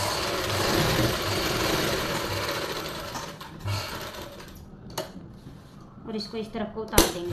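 A sewing machine runs steadily while stitching a palazzo in a boutique, its whirring continuous for about three seconds before stopping, followed by sparse handling clicks and knocks, with a voice talking over it.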